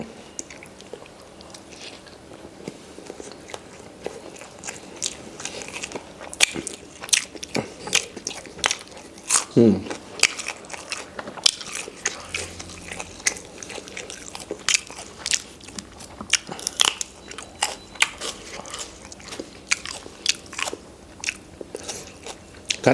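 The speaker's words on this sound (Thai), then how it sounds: "กัดกรอบดังตบเลยพี่น้อง" Loud, crisp biting and crunching of something hard while a Thai spicy canned-fish salad is eaten, a steady run of close crackly bites and chewing with no talk over it.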